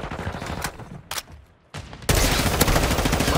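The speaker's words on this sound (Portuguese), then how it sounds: "A granada tática, ela faz minha arma atirar sozinha, cara." In Call of Duty: Modern Warfare 2, a gun fires on its own under a tactical grenade's effect, giving a few scattered sharp shots, a brief lull, then a dense, loud continuous burst of rapid fire.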